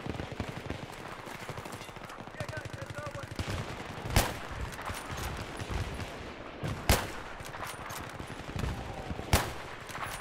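Gunfire in the video game Battlefield 3: bursts of rapid automatic fire and several loud single shots punctuate the game noise, while a player talks at moments.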